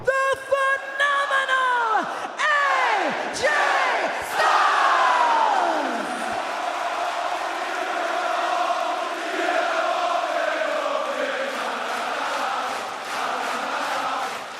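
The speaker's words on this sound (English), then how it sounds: "The crowd chanting AJ Styles' name when he was being introduced still gives me chills." Large WWE Backlash arena crowd in France chanting AJ Styles' name during his introduction, a loud sustained roar of many voices with rising and falling swells of chanting throughout, no single speaker standing out.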